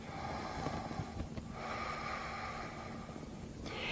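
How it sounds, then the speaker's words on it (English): Slow, deep breathing during a yoga session for anxiety, with a long breath drawn in and released through the nose, close and soft over a steady background hum, no speech. "we're really focusing on the breathing"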